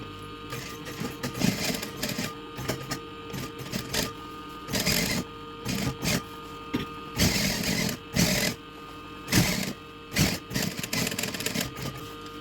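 An electric sewing machine stitches a trouser waistband during a waist alteration, running in repeated short bursts with pauses between them, fairly loud and close with no talking.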